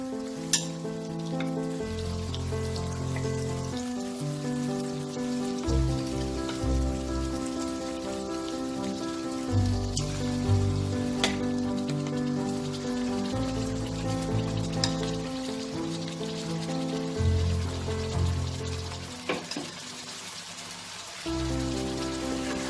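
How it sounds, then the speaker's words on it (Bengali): Marinated chicken pieces fry in hot oil with a steady crackling sizzle that fills the whole stretch, moderately loud and close, accompanied by occasional stirring noises and no speech. "এটাকে হালকা একটু ভেজে নেব, চিকেনের কালারটা চেঞ্জ হয়ে যাবে, ততক্ষণ অবধি এটাকে আমি ভাজবো।"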